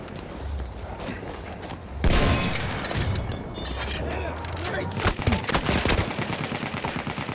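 Gunfire in Battlefield 1, dense bursts of automatic and single shots with a heavy blast midway, loud and busy, while someone talks over the action.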